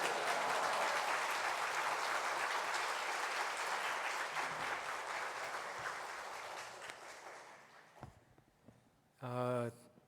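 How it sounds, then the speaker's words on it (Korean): A church congregation at a Sunday afternoon worship service applauds loudly and steadily, the clapping slowly fading over several seconds before a brief spoken exclamation rings out. "우리 목사님 나오실 때에 큰 박수로 또 입으로는 할렐루야로 함께 환영하겠습니다"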